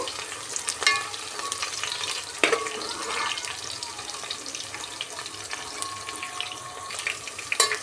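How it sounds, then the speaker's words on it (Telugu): Four green chillies frying in a pan make a faint, steady sizzle and crackle, with a few soft stirring clicks and scrapes close by and no voices. "ఇప్పుడు పచ్చిమిరపకాయలు నాలుగు వేస్తున్నానండి ఒకసారి దోరగా ఫ్రై చేసుకోండి ఒక మూడు నిమిషాలు"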